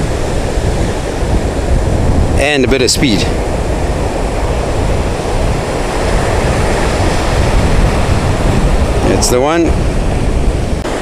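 Surf breaking at a wave-riding competition's final day, a steady broadband roar of waves throughout, with someone talking over it.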